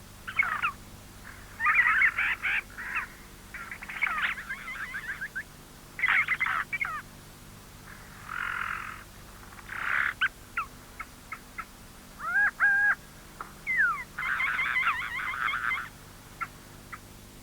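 A male yellow-rumped cacique in rainforest sings a long run of varied, bubbling phrases and mimicked calls of other forest birds, loud and close, with short pauses between bursts and no talking.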